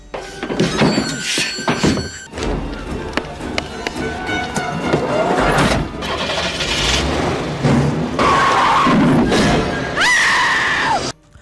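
A car speeds off in a horror thriller about a serial killer. The loud engine surge is mixed with heavy thuds, screams and a dense film score.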